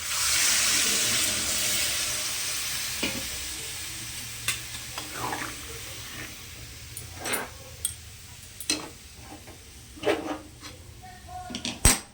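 Water pours into a pot of curry, a brief hissing rush at the start that fades into quiet bubbling with scattered stirring clinks and spoon knocks.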